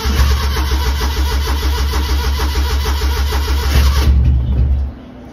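A car engine, left parked since Tuesday with the gearbox in neutral, runs at a steady rough idle close by for several seconds, then abruptly cuts out, leaving near silence.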